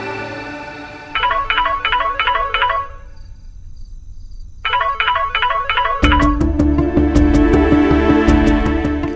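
Rapid electronic dialing tones beep in quick bursts, pause, repeat, then a loud warbling phone ring takes over and continues.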